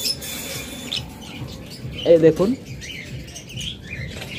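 Opaline lovebirds inside a breeding box give a short burst of close, squawky chirps midway, with fainter tweets scattered around them and a person speaking briefly.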